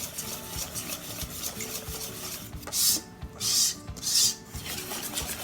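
Crepe batter whisked by hand in a bowl: a steady, close scraping and rasping stir runs throughout, broken by three louder, brighter scraping strokes near the end, with no talk.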